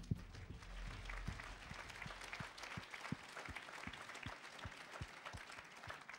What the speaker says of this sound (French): Allez, on les applaudit tous les 5.